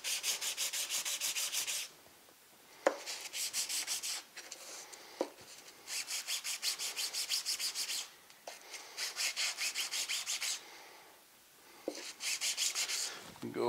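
A Scotch-Brite pad is rubbed back and forth over a heat-treated steel sine plate part in a machine shop, in several bursts of steady rhythmic scrubbing separated by short pauses and light clicks.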